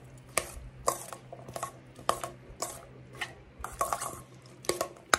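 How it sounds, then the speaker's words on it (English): Chopped cucumber, onion and tomato tossed together in a bowl, a series of irregular wet clatters and soft thumps, close and fairly quiet, with no speech. "put them in this bowl together. Take them, toss them around."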